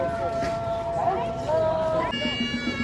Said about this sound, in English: Calls of prayer has just started as well.